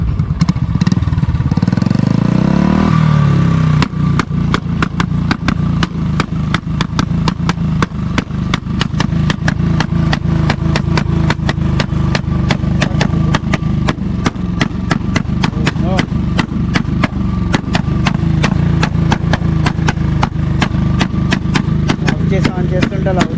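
Royal Enfield motorcycle engine in Goa, revving loud and close in a steady rapid thumping beat with occasional throttle swells, voices talking over it at the start.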